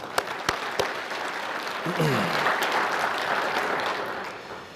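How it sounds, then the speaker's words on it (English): A crowd breaks into applause after a few isolated claps, a sustained wash of clapping that holds steady, with a voice briefly heard beneath. "Let's give them a round of applause."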